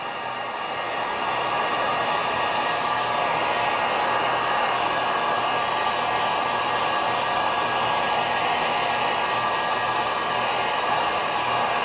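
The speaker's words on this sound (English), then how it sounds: "Heat gun got cool there, so it'll get hot again." A heat gun blows hot air steadily while an RC J-3 Cub model airplane is built, a loud continuous whooshing hiss that starts almost immediately and holds unchanged throughout with no talking.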